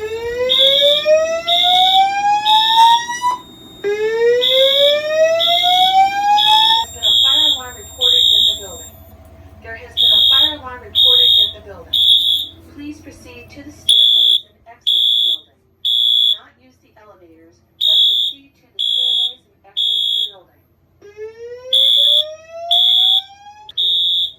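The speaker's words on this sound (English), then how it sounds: "There has been a fire alarm reported in the building." A Notifier NFS2-640 fire alarm system sounds loud, rising whoop tones and rapid repeating high beeps in an on-off pattern. A recorded evacuation voice message plays between the tones.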